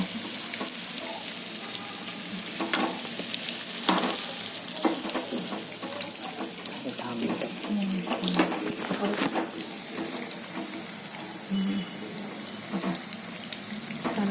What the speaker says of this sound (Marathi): क्रिस्पी तळून घ्यायचं एकदम एकदम टेस्टी लागतं मिरची मिरच्या बनवून